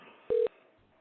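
Two touch-tone beeps from a telephone keypad as a number is dialed, loud and clear, each brief and separated by a short gap, over a quiet room hum.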